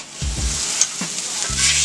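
Steak and onions sizzling on a griddle, a close, steady hiss with a few soft scraping stirs and low thumps across a couple of seconds.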